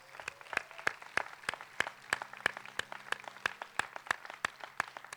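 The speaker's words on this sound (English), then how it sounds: "Let's give them a round of applause." Audience applause for teachers at a Fairmont Preparatory Academy commencement, sparse sharp hand claps in a fairly regular rhythm, quiet and somewhat distant with no speech.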